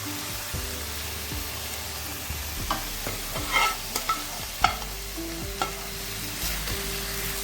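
A paste of ginger, cumin and green chilli sizzles and fries in a kadai while a spoon stirs and scrapes through it, with occasional louder clatters of utensil against metal.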